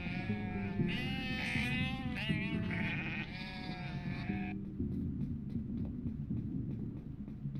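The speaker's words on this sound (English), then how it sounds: "I will shoot these sheep." Repeated bleats from sheep in the video game UnMetal, loud, wavering, and overlapping for the first four and a half seconds, then giving way to a quieter low rumble with faint ticks.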